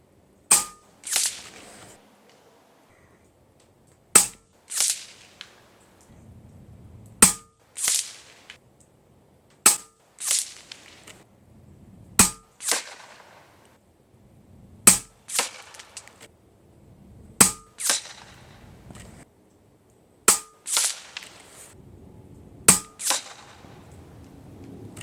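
A Taipan Veteran Long .25 air rifle fires roughly nine sharp, loud shots spaced a few seconds apart, each crack followed by a brief ringing tail and some with a second quick snap, with quiet between them.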